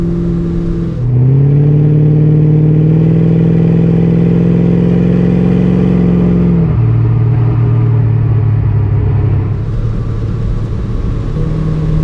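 A 1969 Maserati Ghibli 4.7 sports car engine, kept in original condition, rises in one strong loud pull, holds a steady high drone for several seconds, then drops back to a throaty rumble close by.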